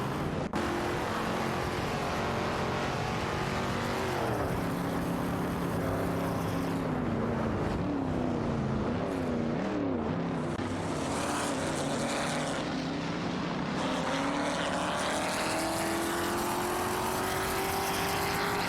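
Race cars in a racing video game, including an Aston Martin Vantage 77 and a Mercury Cougar Eliminator 69, roar loudly and continuously, their engine tones rising and falling through gear changes with no voices.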